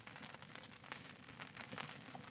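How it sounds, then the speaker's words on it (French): A campfire crackles steadily through a light autumn rain at a tarp campsite, with soft irregular pops and patter blending into a continuous quiet wash, faint and close, with no voices. "Le feu qui crépite"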